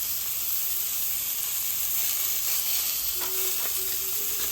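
Smash burger patty and onions frying on a cast iron pan, a loud continuous hiss and sizzle heard close up with no voices.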